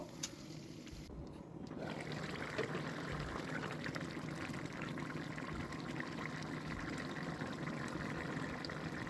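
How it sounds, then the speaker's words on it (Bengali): Water poured into a pan of bottle gourd and shrimp cooking down for a gravy: a brief quieter moment, then a steady, loud rushing splash that runs to the end. "এখন আমি ঝোলের জন্য পানি দিয়ে দেব"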